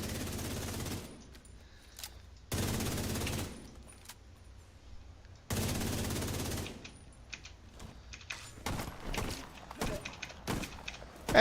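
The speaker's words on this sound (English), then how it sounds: "Let's shoot it real quick." Bursts of automatic gunfire in The Division 2 are aimed at an enemy turret. Three long, loud sustained volleys are broken by pauses, then come several sharper scattered shots and thumps toward the end.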